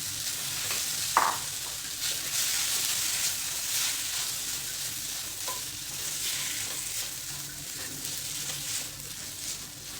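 Boiled potato sautéing in a pan, a soft, even sizzle running throughout with one brief knock of a spoon early and faint stirring scrapes.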